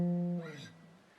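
A guitar plays the intro riff of a song: a sustained bright note rings first, then a quick falling figure, fairly close and clear, with no voice over it.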